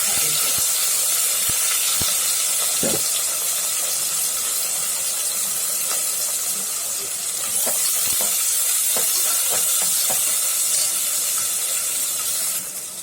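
Onions and about ten green chillies fry in a hot pan while biryani is cooked, giving a steady, close sizzle and hiss throughout with occasional light stirring taps.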